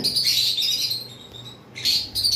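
Pet birds kept for sale chirp and tweet in quick, bright bursts. The calls are fairly close and steady, with a short lull before the chatter picks up again.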